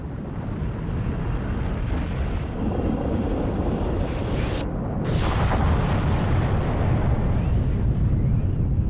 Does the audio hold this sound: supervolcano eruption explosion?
yes